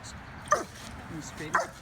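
A dog on a street stroll barks at a Trump punching bag in two short, sharp yips about a second apart, fairly close and set against soft background noise.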